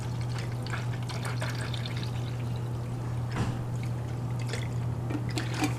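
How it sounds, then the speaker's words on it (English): Water pours steadily into the reservoir of a drip coffee maker for several seconds, a continuous splashing trickle over a low steady hum. "So pour your water into the back like so."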